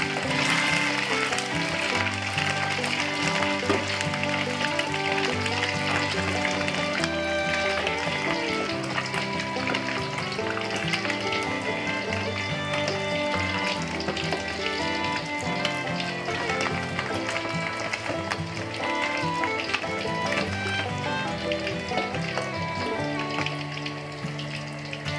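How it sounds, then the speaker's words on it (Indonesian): Fish frying in hot oil in a pan while cooking pindang fish: a continuous loud sizzle and crackle runs unbroken throughout, with occasional stirring and no speech. "langsung aja kita goreng nih ikannya"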